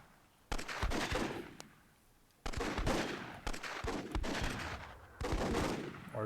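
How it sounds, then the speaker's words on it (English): Repeated loud bursts of an RPG barrage in the Myth II Soulblighter video game, three or four separate heavy volleys with short quiet gaps between them. "RPG barrage."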